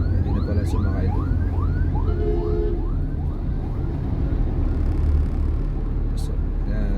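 An ambulance siren wails in a repeating rising sweep through Metro Manila city traffic, loud and fairly close over the constant rumble of engines and road noise, with someone talking from inside a car.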